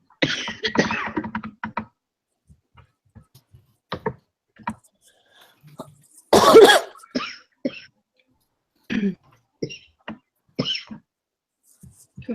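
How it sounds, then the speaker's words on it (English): A person coughs in a room: a loud cluster of coughs at the start, another sharp burst midway, and scattered smaller coughs and throat sounds between quiet gaps. "Who's coughing?"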